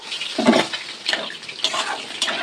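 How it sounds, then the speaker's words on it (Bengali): Water being poured into a pan of vegetable curry, heard as a close, loud splashing gush in short surges that continues for the whole moment. "এবার জল দিয়ে দেবো। জল দিয়ে দিলাম"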